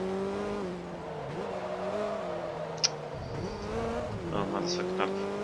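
A VW Golf race car drives in Forza Motorsport 2, its engine droning and rising and falling through gear changes with a brief tire squeal, while someone talks over it.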